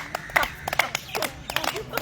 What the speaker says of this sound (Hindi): ताली बजा लीजिए तो, ताली 1 2 3